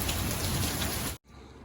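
Heavy rain pours steadily onto a Lanshan 2 trekking-pole tent during a downpour, a dense, loud hiss close by that cuts out abruptly for a moment before returning.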